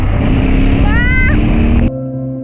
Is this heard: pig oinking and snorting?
no